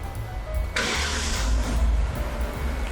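A 2022 Kia K9 facelift sedan starts by remote, its engine catching with a brief surge and then settling into a low, steady idle heard close by, with no talk.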